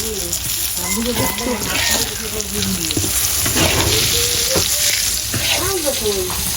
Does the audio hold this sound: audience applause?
no